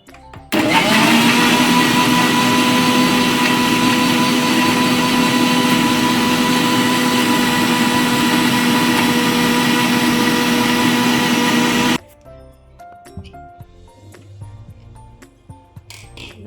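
A kitchen blender grinds almonds, oats, banana and dates for a milkshake, a loud, steady, high whirring motor for about eleven seconds that then cuts off, leaving faint handling clatter.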